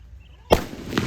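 A single sharp firecracker bang bursts suddenly after a quiet moment at a Diwali celebration, followed by a short crackling tail and a second faint pop.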